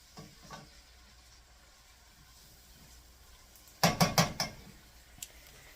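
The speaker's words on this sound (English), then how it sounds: "We're going to stir that in with the onions and everything else." Sausage, rice and onions being stirred in a skillet, a quiet scraping sizzle giving way to a burst of several loud clanking utensil strikes against the pan near the end.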